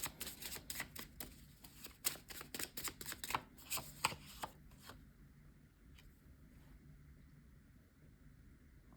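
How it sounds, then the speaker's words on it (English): A handmade deck of cards is shuffled and drawn up close, giving a quick run of crisp slapping and flicking strokes that fades into quiet room tone. "we are going to pull a few channel messages cards from a deck that I created"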